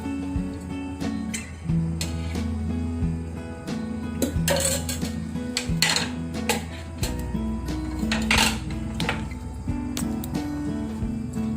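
Fried vegetables are scooped from a pan into a bowl, with steady metallic scraping, clinks of a spoon against the vessel and soft frying in the background, close and continuous.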